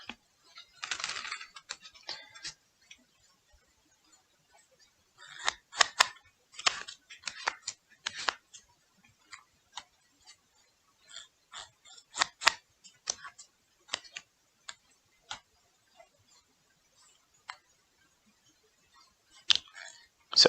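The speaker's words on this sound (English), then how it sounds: "Shuffling the cards." Playing cards being shuffled at a desk, a series of quick riffling and snapping bursts separated by short pauses, close and fairly crisp, with no talk.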